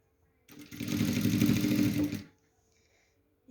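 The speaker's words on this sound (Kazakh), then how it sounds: "Екінші лентамды тігемін міне." A sewing machine stitches a second ribbon onto a patchwork skirt in one quick, steady run of rapid mechanical chatter lasting under two seconds, close and fairly loud between quiet pauses.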